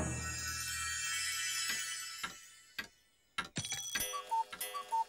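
A cartoon cuckoo clock ticking as a sustained chime fades, followed by sharp mechanical ticks and clacks with short high pips near the end, fairly loud and close with no voices.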